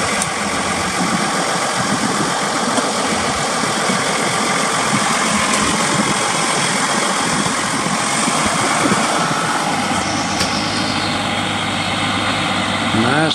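A John Deere 7220 four-wheel-drive tractor with cab and front loader, showing 8,843 hours, idles with a steady close rumble and knocking vibration that runs throughout, a faint tonal hum joining near the end.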